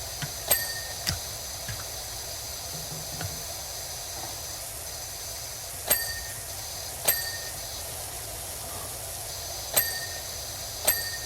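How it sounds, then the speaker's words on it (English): Bright completion dings chime now and then over a steady hiss of pressure washing in PowerWash Simulator 2 while cleaning a hobbit-style door, about eight crisp tones spread across the stretch. "So many dings."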